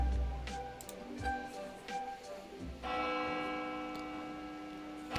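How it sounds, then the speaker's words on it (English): A bell rings in the distance in the video game Lil Guardsman, a sustained tone ringing out and slowly fading behind quieter game sounds. "Bell rings in the distance."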